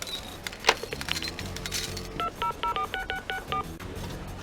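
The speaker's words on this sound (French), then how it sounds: "j'appelle tout de suite" A telephone number is dialed on a touch-tone phone: a quick run of about ten close, clear keypad beeps in an irregular rhythm, following a brief stretch of clatter and handling noise.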